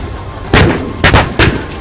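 Israeli army artillery fires shells near the Gaza border: three heavy, booming blasts about half a second apart, each with a short rumbling tail over a steady background.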